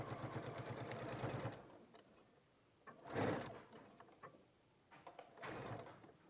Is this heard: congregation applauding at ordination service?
no